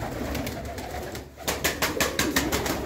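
Golden and Lakha pigeons in a loft, with a steady background of bird calls and soft cooing running through, growing busier and more layered in the second half.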